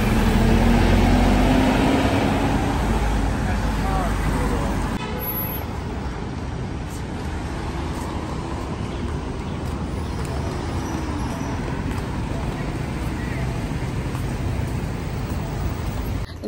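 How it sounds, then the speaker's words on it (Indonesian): School bus passing on a wet road near a primary school in Foshan, China, a steady loud roadway rumble that eases slightly after a few seconds, with rain-like wash underneath. "Ada bus sekolah nih."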